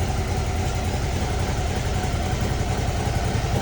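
A Suzuki V-Strom DL 650 motorcycle idles through its warm-up, a steady, close, even engine hum with no voices.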